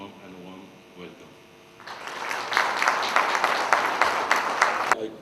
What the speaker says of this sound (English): You, the audience, deserve the biggest applause for taking time away from your busy schedule and for gracing this event.